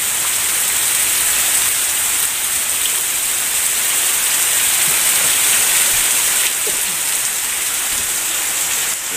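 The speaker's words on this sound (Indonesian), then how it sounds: "Hujanna ageng." Heavy rain pours down over a rural village in the late afternoon, a dense, steady hiss of downpour drumming on surfaces, loud and unbroken throughout with no voices.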